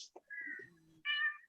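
A cat meows several times nearby, a short high chirp, then a longer drawn-out meow and a final clear, loud meow after a brief pause, with no one talking.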